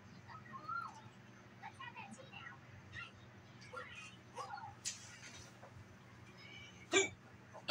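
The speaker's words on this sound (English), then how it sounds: "I'm so sorry about my hiccups." Several small hiccups come from a person watching a SpongeBob episode, scattered between soft cartoon dialogue and background sound, with one sharper hiccup near the end.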